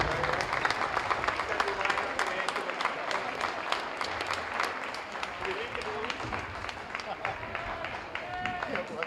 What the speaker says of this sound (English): Please join me in giving them one more round of applause.